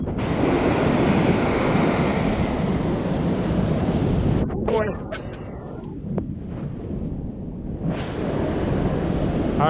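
Ocean waves surging on the rocky Big Sur coast, a loud roaring wash that eases briefly in the middle and then swells again, with some wind buffeting the microphone.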